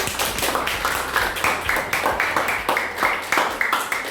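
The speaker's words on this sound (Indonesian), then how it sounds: "Oke, tepuk tangan untuk kita semua." Students in a classroom clap together in a quick rhythmic burst of close, even claps lasting several seconds.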